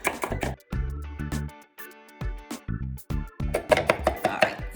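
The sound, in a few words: chopping nuts with a mezzaluna in a chopping bowl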